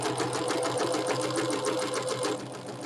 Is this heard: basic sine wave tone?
no